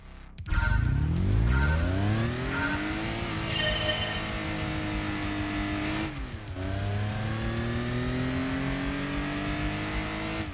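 A small lightweight car in Gran Turismo 2 accelerates hard on a test course, its engine note rising steadily through the gears with a brief drop at a shift, loud and continuous with no talking.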